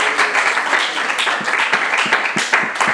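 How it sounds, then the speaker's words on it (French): Studio audience at a school quiz show competition clapping briskly, a steady burst of applause with distinct individual claps standing out throughout. "est-ce qu'on peut applaudir très fort?"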